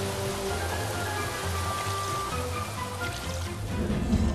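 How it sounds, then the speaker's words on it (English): Heavy rain pours steadily in the game Craft the World, a dense, continuous hiss of falling water with a low looping music bed underneath and no talking. "Big heavy rain."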